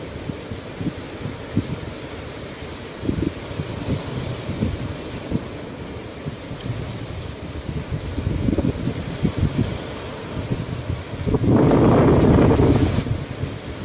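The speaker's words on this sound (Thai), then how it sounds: "นี่ก็จะเป็นบรรยากาศ ชายหาดที่หาดแหลมแม่พิมพ์นะครับนะ" Evening beach ambience at Laem Mae Phim: steady surf and wind buffeting the microphone, with gusts rising and falling and a louder rush of wind or wave near the end, no voices.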